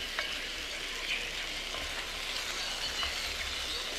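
Mushrooms fry in a pan alongside steak at an outdoor wild camp, a steady soft sizzle and crackle with a few stirring clinks, fairly quiet and heard alone.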